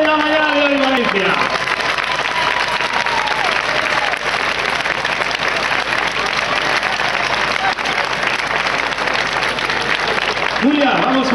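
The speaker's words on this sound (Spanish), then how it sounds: "El aplauso más grande de la mañana de hoy, Valencia." Large crowd at a march against gender violence in Valencia breaks into loud, sustained applause and cheering, with a voice speaking briefly at the start and end over the dense clapping.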